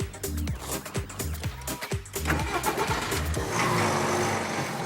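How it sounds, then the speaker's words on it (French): Subaru XV with a Boxer diesel engine on the move, a mid-pitched hum that rises and falls through gear changes, then settles into a steady, louder drone. "le moteur Boxer diesel qui est plein d'allant"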